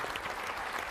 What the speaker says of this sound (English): let's give it a round of applause for our panel members.